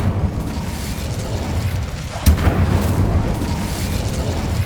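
Incendio fire spell cast in Hogwarts Legacy: a sharp burst midway through a steady roaring, rumbling battle ambience, followed by continued crackling fiery noise.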